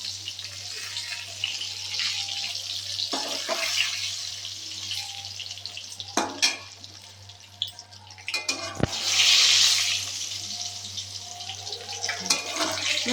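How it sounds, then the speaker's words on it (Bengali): Pointed gourd (potol) fries in hot oil, a steady soft sizzling hiss close by, with occasional clicks of a utensil and a brief louder surge of spattering midway. "একটু ভাজাটা একটু লাল লাল করেই ভাজবো পটলটা"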